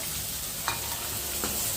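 Moringa leaves fry in an oil tempering, a close, even hiss of sizzling with two light stirring taps, and no voices.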